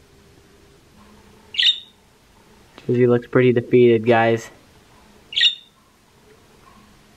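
A bird squawks in short, sharp bursts at the start and again near the end, close by during a snow blizzard challenge, with a person talking loudly between the calls.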